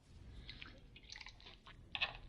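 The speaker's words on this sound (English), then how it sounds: "Here's the reason why while I take my sip of water." A person takes a quick sip of soda, giving soft wet slurping and swallowing sounds with a small liquid drip near the end, close and quiet with no talking.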